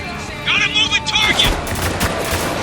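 Gunfire in the war shooter Spec Ops: The Line, a burst of several rapid shots in the game soundscape, with a voice talking over the firing.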